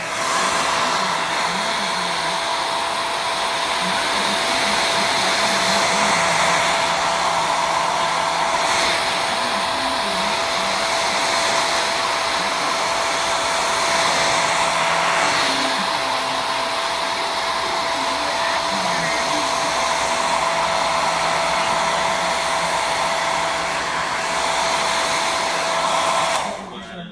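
A hair dryer blows steadily on short natural hair for almost half a minute, loud and close, with a constant whine and airy rush that cuts off at the end; no talk.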